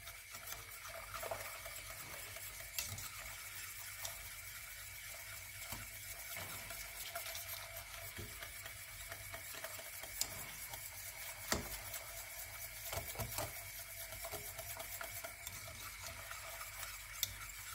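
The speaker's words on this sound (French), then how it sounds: "Je mélange bien." Crème anglaise custard being stirred in a saucepan over a low gas flame, a soft steady scraping and swirling with faint clinks of the utensil against the pan, quiet and continuous with no talk.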